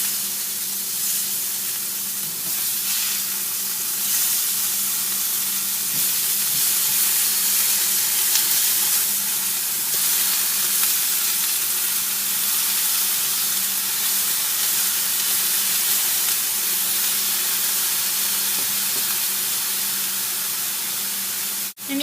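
Thai turkey burgers sizzle steadily in a hot pan just after being flipped, a continuous close frying hiss with no talking.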